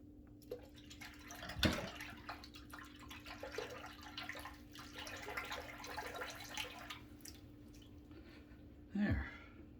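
A razor being rinsed under running tap water during a shave, a faint splashing trickle with a few louder clinks and knocks against the sink, quiet and close.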